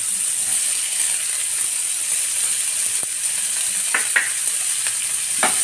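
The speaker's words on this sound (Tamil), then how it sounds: "இதையும் நல்லா வதக்கிடுவோம்." Tomatoes sauté in a pan for a fish masala gravy, giving a steady frying sizzle and hiss with a few sharp spoon-stirring scrapes near the end. No voices are heard.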